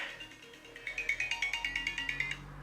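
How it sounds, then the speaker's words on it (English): A mobile phone ringtone sounds close by as a steady run of repeated bright electronic pulses lasting a couple of seconds, with no voice over it. "that was my phone, I'm so sorry."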